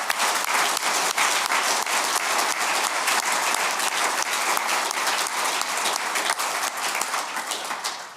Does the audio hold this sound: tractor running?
no